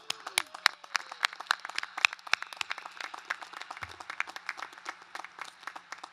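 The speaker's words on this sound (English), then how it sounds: "Give yourselves a round of applause." Steady applause from a college commencement audience, many hands clapping densely for several seconds, with a faint low tone sweeping underneath early on.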